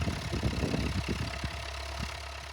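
A tractor engine idles at an agricultural show, a low, steady rumble with a rough knocking texture, fairly close and continuous, with no voices over it.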